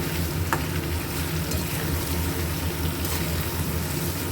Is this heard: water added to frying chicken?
yes